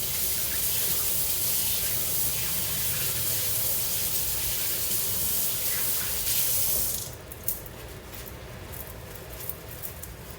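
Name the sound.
water running from a tap while washing hands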